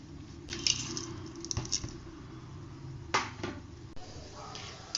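Whole spices such as marathi moggu, bay leaf, kalpasi, fennel, a small cinnamon stick, cumin and cloves frying in hot oil for a Pollachi-style egg gravy, giving close, irregular crackles and pops over a steady sizzling hiss.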